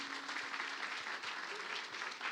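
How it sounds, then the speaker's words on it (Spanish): A church congregation in Barakaldo applauds a visitor with steady, dense clapping that stays even and fairly distant for the whole stretch, with no voices standing out above it. "Un fuerte aplauso para Antonio también"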